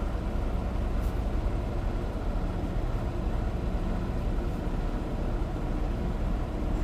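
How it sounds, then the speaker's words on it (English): A Tyson truck rumbles past at a Tyson Foods facility in Fort Worth, Texas, a steady broadband engine and road roar filling the whole stretch with no voices. "Tyson truck to go by first."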